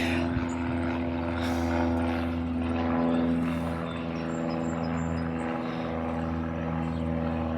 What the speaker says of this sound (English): And an airplane in the sky.